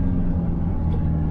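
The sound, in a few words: Citroën car driving past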